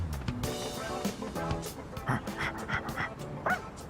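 Koromaru, a dog in the video game Persona 3 Reload, pants in quick breathy puffs with small yips and whimpers, close up, set against soft game music and sound effects.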